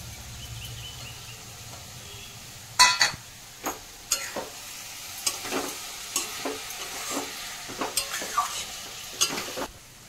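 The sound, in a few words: potatoes added to cabbage frying in a pan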